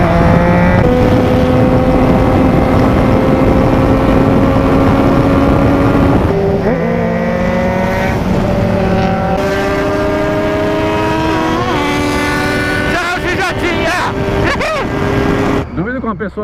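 Carbureted Honda Hornet motorcycle running nearby, a loud sustained engine drone with rising and falling pitch as it revs, under a busy background of traffic.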